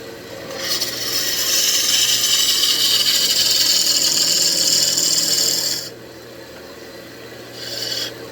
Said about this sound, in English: Ooh, roughing gouge. I'm gonna hone this real quick.